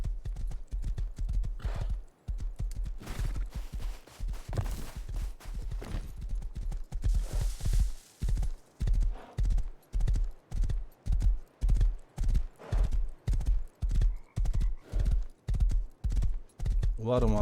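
Horse hooves clip-clop in a steady, rhythmic walking gait in the survival game Rust, close and continuous, with each footfall clearly spaced and faint game ambience underneath.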